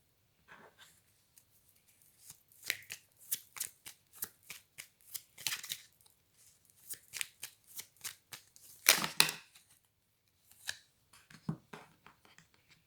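Tarot cards shuffled during a card reading, crisp riffling bursts and slaps in uneven clusters, close and quiet with short pauses between.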